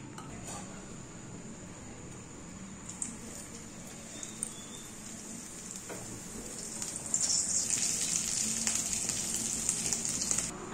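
Dal and potato kachori fry in white oil with a low, even sizzle that swells louder and busier toward the end, with faint clinks of utensils and no talk.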